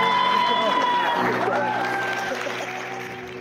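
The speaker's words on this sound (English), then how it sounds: "Round of applause, ladies and gentlemen." A short burst of applause and cheering from wedding guests swells, then fades over a few seconds while a voice speaks over it.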